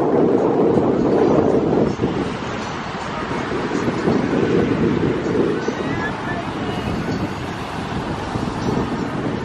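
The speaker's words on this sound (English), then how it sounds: "A little windy for swimming, but you can at least walk on the beach." Strong wind sweeps across Junkanoo Beach in Nassau, buffeting the microphone in a loud, steady roar that dips briefly and then rises again.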